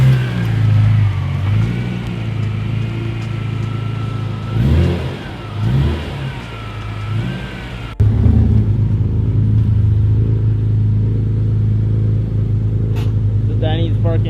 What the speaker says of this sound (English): So Dani's parking his Impreza